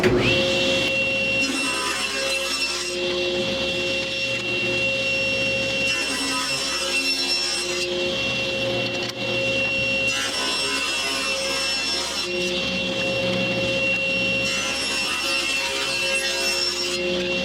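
A saw rips wood into strips for segmented work, a loud, steady machine drone broken by repeated harsher cutting passes as each strip goes through, close up with no talking.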